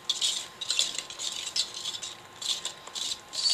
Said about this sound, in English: Now we got to put the flour and baking powder in 3 additions. And just whisk it in.